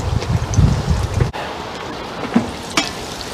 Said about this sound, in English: It fries up a little darker in the fryer